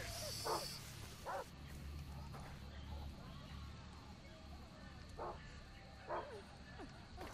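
Several short dog barks in the video game Far Cry 3, spaced out over a steady outdoor ambience with low rumble, fairly distant and moderate in level.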